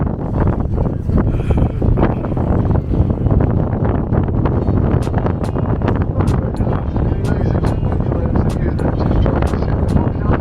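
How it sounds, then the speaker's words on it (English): Strong gusts buffet the microphone in a constant low roar, with occasional sharp knocks and voices faintly mixed into the rushing air, on the coast between Portsmouth Harbour and the Isle of Wight. "Very windy."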